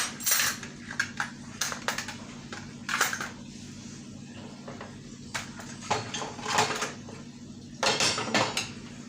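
Dishes and pots clatter and clink in scattered bursts as they are gathered, with metallic scrapes between short pauses, close by.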